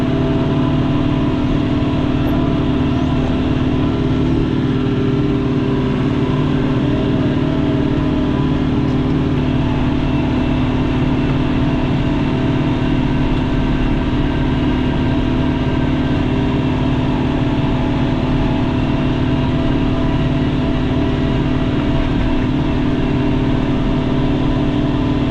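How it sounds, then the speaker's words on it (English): A tractor drives over a small fall food plot for deer, packing the soil with its tires, giving a loud, steady engine drone with constant low rumble throughout and no voices. "Quicker to pack this plot in with the tractor tires than it is to drive all the way back"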